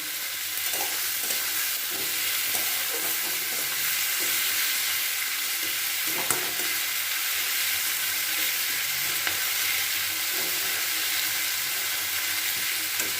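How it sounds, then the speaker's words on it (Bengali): Onions sizzle in hot oil in a pan for a Bengali-style egg curry, giving a long, even frying hiss with occasional soft scrapes and clicks from stirring, close and steady with no speech. "যাতে না পুড়ে যায় ওই রকমভাবেই ভাজতে হবে পেঁয়াজটাকে"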